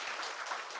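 Church congregation applauding their pastor and fellow members after a two-day lecture event, a dense, steady wash of clapping from a crowd, brief and evenly sustained.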